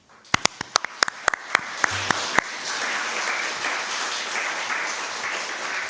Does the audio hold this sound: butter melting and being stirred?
no